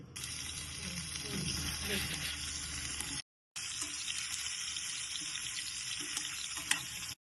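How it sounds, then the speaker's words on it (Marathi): Small boiled potatoes fry in hot oil with a steady hiss and sizzle, quiet and continuous, broken by a brief gap of silence partway through. "तेलामध्ये मी ती परतून घेणार आहेत"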